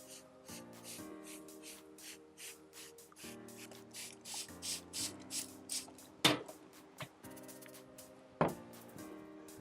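Soft hissing bursts from a spray bottle of apple juice vinegar misting beef ribs, several short pumps in a loose rhythm, close by, with a couple of sharper clicks and faint handling noise.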